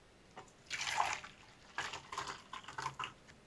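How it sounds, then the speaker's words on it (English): Hot water pours into an MRE ration pouch of beef stew, a soft close splash and trickle in a few short bursts. "This is hot water too,"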